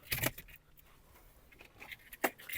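A brief jingle of car keys for a Volkswagen Golf shaken close by, twice, with a quiet hum in between.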